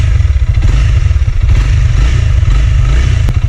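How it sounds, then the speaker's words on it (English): A Honda CRF 300L dirt bike engine running close and loud, a rapid steady thumping idle with light mechanical clatter throughout and no talk. "So we're gonna start this bike"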